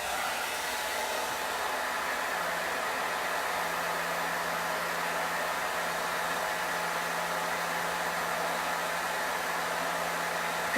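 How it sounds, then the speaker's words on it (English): Hair dryer blowing steadily to dry stencil paint, a constant loud rushing whir that holds unchanged from start to finish with no voices over it. "So I'm going to use the hair dryer. It's going to get a little loud."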